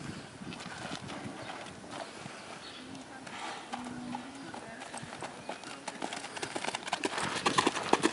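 A horse on open ground breaks from a walk into a lope, its hoofbeats a soft rhythmic clip-clop that grows louder and closer toward the end, with people talking quietly over it.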